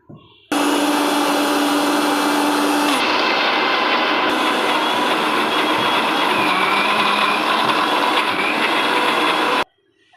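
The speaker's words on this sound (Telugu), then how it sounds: "ఇంకా అవి తీసుకొని ఇంకా నేను మిక్సీ వేసేస్తాను" A mixer grinder whirs loudly and steadily for about nine seconds grinding cashews, almonds and black sesame, its pitch shifting slightly as the contents break down, then stops abruptly.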